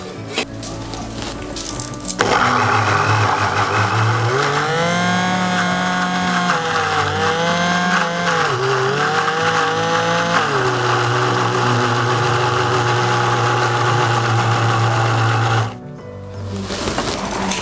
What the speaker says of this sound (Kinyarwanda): Ngiye kubisya nkoresheje blender